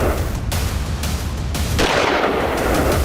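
Gunfire in news footage of a night terror attack in Vienna, Austria: several loud sharp shots ring out at roughly half-second intervals over dense, continuous noise, with the bursts standing out sharply.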